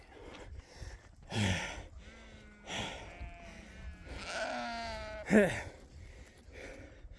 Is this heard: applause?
no